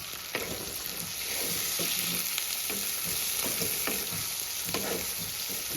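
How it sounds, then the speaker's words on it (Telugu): Onions fry and sizzle in a pan for an egg curry, a steady, loud hiss broken by occasional stirring scrapes, close up and with no talking over it. "ఉల్లిపాయ అనేది బాగా వేగాలండి. బ్రౌన్ కలర్ వచ్చేంత వరకు వేపాలి."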